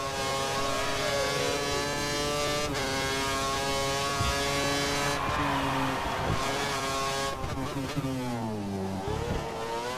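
F1 2013 racing game cars lap the Suzuka circuit in Japan, a Sauber among them, with high-pitched engines screaming continuously, revs rising and dropping through gear changes, loud and close with no speech.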